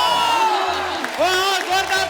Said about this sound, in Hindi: जोरदार तालियां हमारी क्रिकेट टीम के लिए।